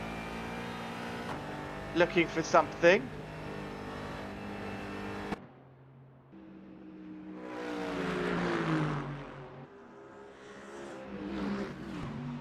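GT race cars lapping the 12 Hours of Bathurst, a steady engine drone under commentary with a burst of loud revving passes early on, then a quieter stretch and a swelling approach as one car closes on another.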